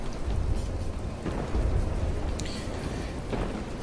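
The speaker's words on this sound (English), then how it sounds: "have you noticed the storm in the background?" A thunderstorm in the From the Depths video game, with steady heavy rain and low rumbling thunder rolling throughout, loud and continuous with no talking.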